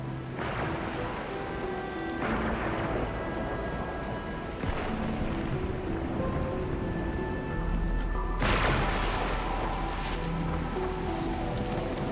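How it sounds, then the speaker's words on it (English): Heavy rain pours steadily through a stormy video game scene in Arknights: Endfield, loud and continuous, with deep rumbles of thunder rolling underneath and no talking. "It's raining harder. I can't hear anything except for the rain."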